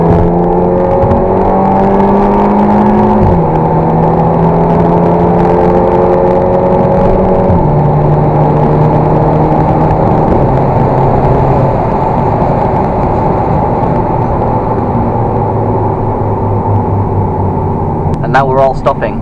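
MK2 Audi TT engine pulling hard to overtake a Corsa on a UK road, loud and close throughout with rising gear-by-gear pitch sweeps and shifts, a steady rush of road and wind beneath.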